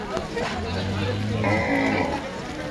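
Cattle lowing at a rain-soaked cattle market, a drawn-out moo followed by a second call, heard nearby over background crowd noise and a person talking.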